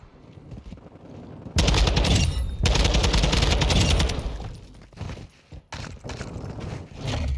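Gunfire from a TAQ-56 rifle in Modern Warfare 2, with dense, loud bursts of rapid automatic shots that stop and restart several times.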